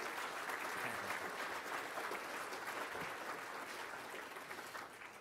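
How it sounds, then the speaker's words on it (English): A conference audience at an International Churchill gathering applauds steadily for the American editor and publisher of a book. The dense, even applause is faint and distant and holds for the whole stretch without a break. "I want you all to give her a big round of applause"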